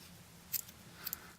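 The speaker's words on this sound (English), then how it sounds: "And I'm going to cut my color off," Scissors snip crochet yarn close up: two quick, crisp blade clicks about half a second apart in an otherwise quiet room.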